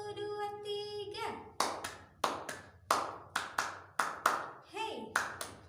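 Group hand clapping in a counted rhythm during a children's lesson, sharp claps in short clustered bursts between a sung or chanted voice and children calling out, fairly close and distinct.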